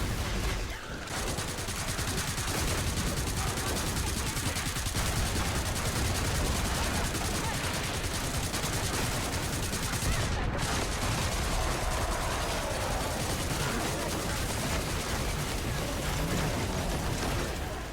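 A pump gun firing in a video game, buried in a dense, continuous wash of loud gunfire and blasts that runs the whole time, with individual shots hard to pick out.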